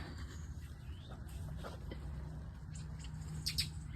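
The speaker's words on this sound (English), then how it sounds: "do you hear them birds?" Faint bird calls and chirps ring out intermittently over a low outdoor background hum, with a couple of sharper high calls near the end.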